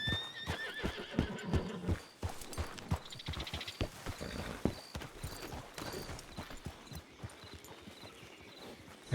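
In Red Dead Redemption 2 roleplay, a horse whinnies near the start while hooves clip-clop in an irregular walking rhythm throughout, fairly close and moderately loud, with no talking.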